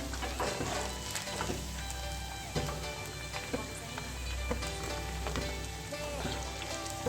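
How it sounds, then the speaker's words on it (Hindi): Chicken snack pieces frying in hot oil, a continuous close crackling sizzle with small pops throughout, no voices. "ये बाकी जो पीस है उसको भी मैं इसी तरीके से फ्राई करती हूँ।"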